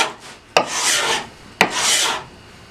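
Two slow scraping strokes of a freshly sharpened hand scraper across rough wooden stock, each beginning with a sharp catch and then a broad, airy rasp as shavings peel off.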